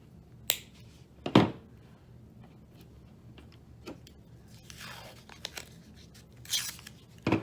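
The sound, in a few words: cutting a red and black wire off a Ford EFI harness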